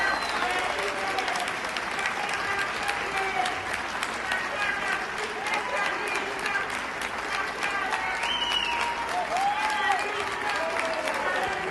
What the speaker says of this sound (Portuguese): uma salva de palmas para cada professora